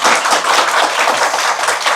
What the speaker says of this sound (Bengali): এটার জন্য আরো জোরে তালি হওয়া উচিত।